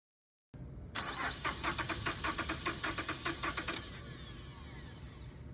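A car's starter motor cranks the engine in rapid, even pulses for about three seconds during a starter voltage-drop test, loud and close, then a steady low running tone follows.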